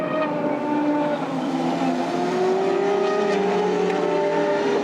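DTM touring race cars scream past at Barcelona in the 2007 season, several engines droning loudly together as their pitches rise and fall through gear changes.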